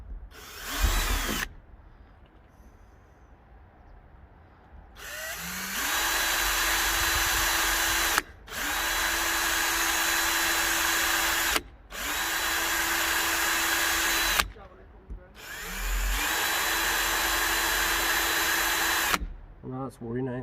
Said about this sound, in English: I'll drill a couple of pilot holes now in the side